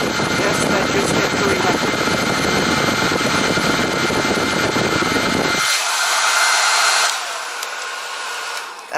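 Salon Series hair dryer running on its high heat setting with high fan speed, a loud steady whooshing roar close up; after a few seconds the low rumble drops out, leaving a thinner hissing airflow that tapers near the end.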